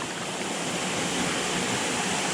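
A forest stream spills over a fish trap, giving a steady, close, unbroken rush of falling water with no voices.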